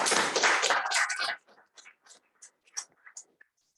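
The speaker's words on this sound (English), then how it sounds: "Can I give the panelists a quick round of applause?" Brief round of clapping and hand taps for internship panelists at a student panel event, loud at first then trailing off into a few scattered, fainter claps.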